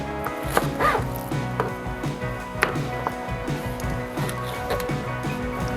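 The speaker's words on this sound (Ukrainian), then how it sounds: "Починаю з того, що нарізаю м'ясо" A knife cuts meaty rib for shashlik on a wooden board in repeated soft chops and thuds, steady and close, with a busy background hum.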